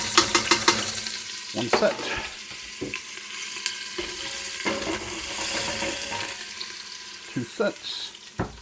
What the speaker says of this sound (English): Stir those up.